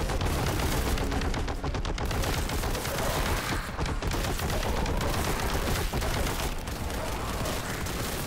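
Heavy bolter from Warhammer: Boltgun firing in a relentless, loud, dense stream of chunky rapid shots, a continuous roar of automatic gunfire with no pauses.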